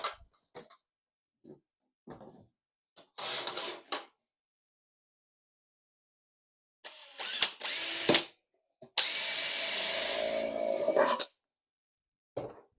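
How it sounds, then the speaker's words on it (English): A power drill whirs in several short bursts, then runs in a longer steady stretch drilling a hole for a queen cell carrier, with quiet gaps between, close up and fairly loud. "We'll drill our hole."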